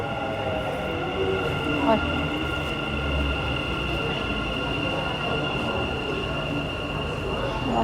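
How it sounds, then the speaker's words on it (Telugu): A Dubai Metro return train runs along the line with a loud, steady rumble and whine and faint squeal from the wheels. Voices murmur beneath the noise in the crowded carriage. "సో ఇది రిటర్న్ ట్రైన్"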